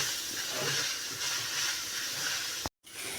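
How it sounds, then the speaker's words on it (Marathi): Bitter gourd dry-roasting in a pan gives a soft, even hiss throughout, briefly cut off near the end before resuming. "आपल्याला ही ड्राय होईपर्यंत आपल्याला हे भाजून घ्यायचं आहे"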